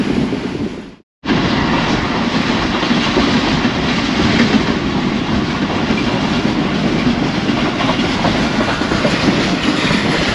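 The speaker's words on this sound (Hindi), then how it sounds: "GU-20 2000 रेटेड हॉर्स पावर का लोकोमोटिव है और 17 कोचेस को खींच कर बहुत" Passenger train of 17 coaches hauled by a 2000-horsepower GU-20 diesel locomotive cruising at about 115 km/h, a loud, steady roar of wheels and wind heard from onboard, broken only by a brief dropout near the start.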